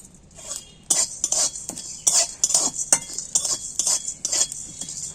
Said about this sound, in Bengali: এইবার আমি লবঙ্গ আর জয়িত্রী সেগুলোও দিচ্ছি, এখানে জিরেটাও দিয়ে দিচ্ছি